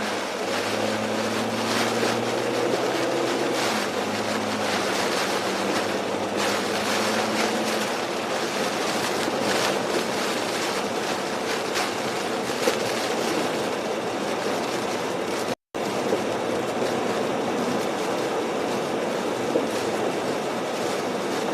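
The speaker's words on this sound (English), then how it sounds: "Yeah, wind's picking up again." Hurricane Ian's wind roars steadily and loudly as it picks up, a constant broadband rush close to the microphone that is briefly joined early on by a low engine hum, and no voices are heard.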